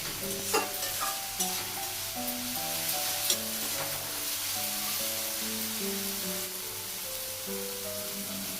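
Spring onions frying with turmeric in a pan give a steady sizzle with a few stirring scrapes near the start, while gentle melodic music plays underneath throughout.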